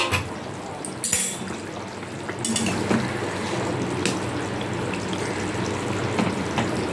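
A metal lid comes off a pot of Bengali fish curry (macher jhol) with boiled potatoes, giving a couple of brief clinks over a steady, soft bubbling simmer.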